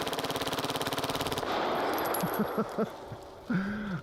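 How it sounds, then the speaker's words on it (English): A full-auto machine pistol in a video game rattles off a rapid, steady burst of shots for about a second and a half, then stops, followed by scattered softer in-game clicks and thuds. "with a full auto pistol, a machine pistol like this"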